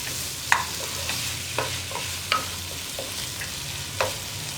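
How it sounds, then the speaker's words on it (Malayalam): Cauliflower masala is stirred in a pan over a low flame, a soft continuous sizzle broken by several distinct scraping clacks of the spoon against the pan at irregular intervals. "ഇടയ്ക്കിടയ്ക്ക് ഇളക്കി കൊടുത്തുകൊണ്ടിരിക്കണം എങ്കിൽ കോളിഫ്ലവറിൻ്റെ എല്ലാ സൈഡും ഒരുപോലെ കുക്കായി വരുള്ളൂ"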